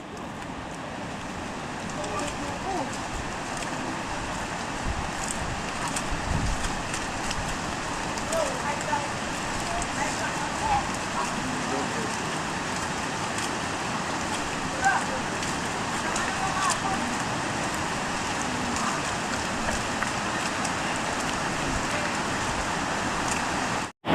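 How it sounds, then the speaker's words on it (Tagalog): Heavy rain on a farm near Mount Banahaw, a loud continuous hiss of downpour on surfaces lasting throughout, with faint talk beneath it. "medyo malakas po ang ulan sa Banahaw"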